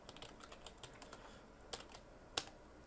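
Keystrokes on a computer keyboard as a command is typed, a quiet run of light, irregular clicks with a couple of sharper taps near the end, no voices.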